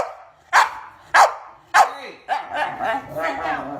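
A puppy barks three times in sharp, evenly spaced yaps, then breaks into a rapid run of quicker, overlapping barks and yips, close and loud.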